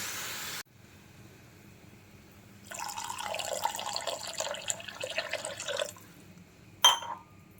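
Buttermilk poured into a pot of rice flour for a coconut buttermilk upma, a soft continuous liquid splash lasting about three seconds between quieter handling noises, ending with a short clatter.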